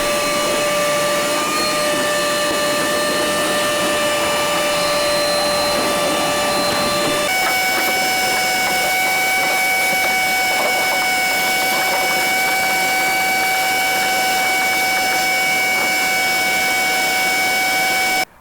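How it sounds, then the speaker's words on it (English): A loud, steady vacuum cleaner whine runs continuously while cleaning out a boat, its pitch shifting slightly partway through, with no talking. "I think I cleaned this up as much as I can with the vacuum."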